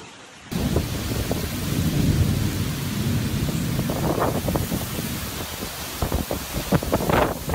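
Heavy rain pours steadily during a thunderstorm in Sicily, with wind buffeting the microphone and thunder rumbling low beneath a series of sharp, crackling bursts of rain and debris.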